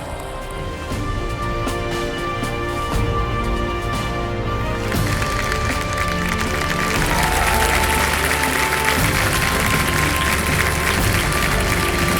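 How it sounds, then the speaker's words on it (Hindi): A studio audience on the KBC India quiz show claps to welcome a guest, a retired Kargil war major, with dense, steady applause that grows fuller partway through and goes on for several seconds. "तालियों के साथ उनका स्वागत किया जाए।"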